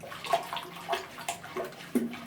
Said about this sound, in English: I'm heating it up with just hot tap water here at first, just to make the process a bit faster.